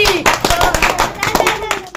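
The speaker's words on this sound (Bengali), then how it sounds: "আবার একটা জোরে হাততালি" Loud applause from an audience for a contestant in a blow-the-ball-off-a-bottle-into-a-glass challenge, a dense burst of many hands clapping steadily, with some voices under it.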